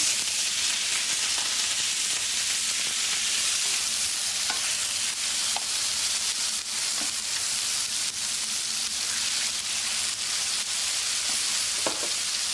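Lamb searing in olive oil in a hot pan, a steady, close sizzle and fry that runs unbroken throughout with occasional sharper pops and spits.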